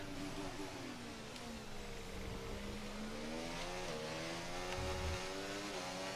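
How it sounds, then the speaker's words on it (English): A Formula 1 race car on soft tyres spins its wheels at the Miami Grand Prix in F1 24, with a high, rising and falling engine whine and a steady roar close by. "Wow, a lot of wheel spin."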